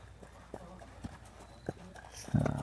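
A thoroughbred horse is walked around at a stud farm, its hooves clip-clopping in an even rhythm of distinct strikes on hard ground, with people talking over them.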